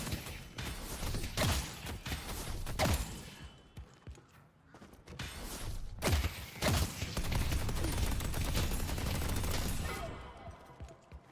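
Turret gunfire in a video game bursts in dense, rapid volleys of shots, loud and close, broken by a short quieter gap before firing resumes steadily to the end.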